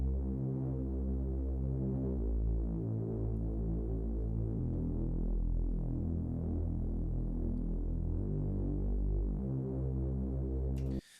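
Reese bass synth with its low end raised, a dense, throbbing sustained tone with slowly shifting harmonics, steady and loud throughout before cutting off at the end.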